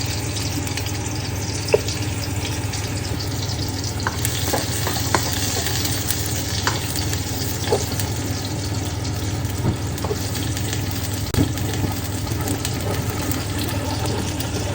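Sliced onions hiss and crackle in hot cooking oil with a continuous bright sizzle, broken by occasional light clinks and scrapes of a spatula against the pan; no voices.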